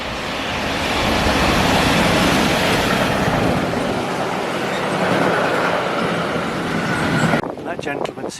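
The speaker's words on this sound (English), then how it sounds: "Freight train." A freight train rushes through a French station, a loud broad roar with rhythmic wheel clatter that builds and holds, then cuts off abruptly as faint metallic tones and quieter ambience remain.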